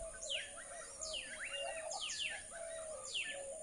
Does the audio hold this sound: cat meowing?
no